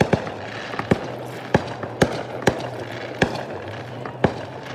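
Fireworks finale on a Fourth of July weekend night: repeated sharp bangs and pops spaced about half a second apart, moderately distant, over a steady crackling, rumbling background.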